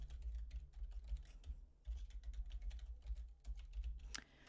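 Steady typing on a computer keyboard while entering text in Hangul 2010, a quick run of soft key clicks close up over a low hum, with a louder keystroke near the end.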